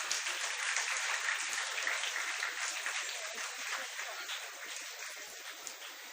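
Sustained applause from an audience at a school felicitation ceremony for Class X achievers, a dense, steady wash of many hands clapping that fades slightly toward the end.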